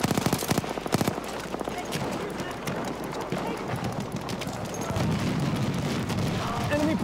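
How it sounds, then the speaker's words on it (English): Bursts of Battlefield 1 gunfire crackle through a dense, noisy battle mix, with sharp shots early on and a constant roar of action underneath. "Here, gunfire."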